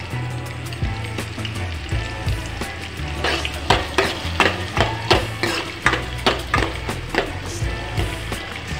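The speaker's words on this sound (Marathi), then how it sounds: "आणि हा कांदा लालसर येईपर्यंत मी परतून घेणार आहे।" Chopped onion sizzles steadily in oil in a pan for a small-fish curry, with a string of rhythmic scraping and knocking stirs from a spoon against the pan, close and clear with no speech.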